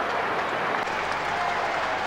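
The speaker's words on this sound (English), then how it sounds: "But this crowd that's growing all the time certainly appreciating a good, tight, close first quarter, Dale Lewis." At quarter time of a 1999 Australian football match between the Kangaroos and St Kilda, a large crowd applauds in a dense, steady roar of clapping with no break.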